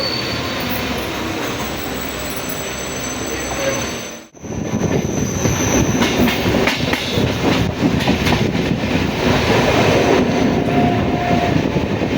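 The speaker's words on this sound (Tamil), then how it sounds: "நல்லா வேகமாக வருது ட்ரெயின்" A train on the Karaikal–Peralam line rushes past at speed, a loud, close roar of wheels and rattling carriages that continues after a brief gust as it arrives, with faint squeals above.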